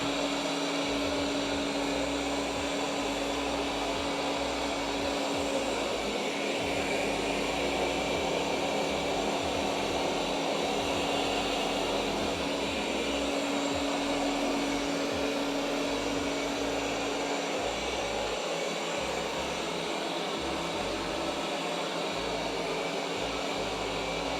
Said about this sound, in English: So right now we're using vacuum and mop, and it starts mapping everything out.